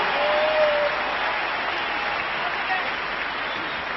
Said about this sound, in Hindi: आप जोरदार तालियों से इनको स्वागत कीजिए